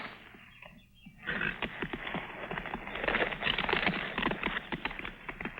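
Rapid clip-clopping hooves on hard ground, a steady rhythm of sharp knocks after a brief quiet start, fairly close and continuous.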